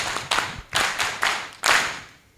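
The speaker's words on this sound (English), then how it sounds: "If I were you, I would clap." An audience at an agricultural extension week event in Uganda claps in a few short, uneven bursts of hand claps, fairly close and with no voices over them.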